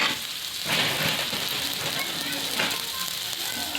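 Large onions fry in a pan for a meal maker curry, a steady close sizzle and crackle with occasional stirring surges and speech over it.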